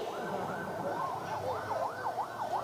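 Ambulance siren wailing in a repeating up-and-down sweep, moderately distant and fairly faint over a steady road rumble, with no voices.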